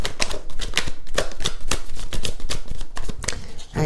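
Oracle cards are drawn and handled from a deck, making a steady, dense clatter of close, loud flicks and slaps that runs on without a break and with no voices.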